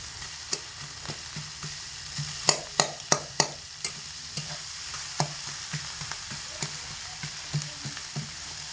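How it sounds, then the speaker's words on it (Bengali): Fried hilsa fish heads are stirred with a metal spatula into sizzling spice paste in a pan, sharp scraping clicks at irregular intervals over a soft continuous sizzle. "ভাজা মাথাগুলোকে খুন্তি দিয়ে এইভাবে একটু ঘেটে দিতে হবে"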